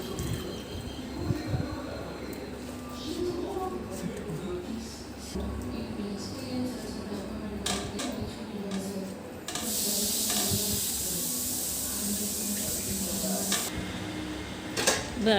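Colocasia greens added to a cooking pot and stirred, with soft rustling and scraping throughout and a louder hissing, sizzling burst for about four seconds in the middle.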